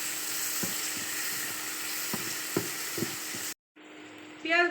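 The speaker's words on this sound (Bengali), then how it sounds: "পেঁয়াজ ভেজে নিচ্ছি" Chopped onions sizzle steadily in hot oil in a pan while they fry for a spicy patishapta pitha filling, with a few sharp spatula taps. The hiss cuts out briefly near the end and then returns with a scrape.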